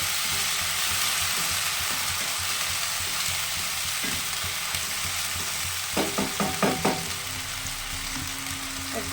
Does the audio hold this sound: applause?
no